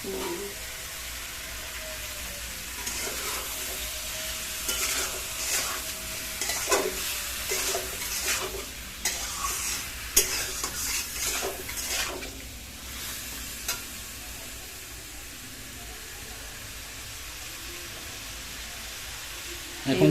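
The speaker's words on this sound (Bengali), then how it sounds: "এখন মাংসটাকে খুব সুন্দর করে ই করে নেবে কষিয়ে নেবে" Country chicken pieces are stir-fried with spices in a pot, giving a soft continuous sizzle with repeated spoon-stirring scrapes and clatters through the middle, quieter toward the end.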